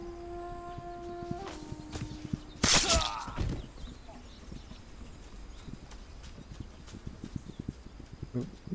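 Horse hooves clip-clopping in a video game, a quick clatter of steps followed by a sharp burst like something shattering, then lighter scattered steps fading under faint game ambience.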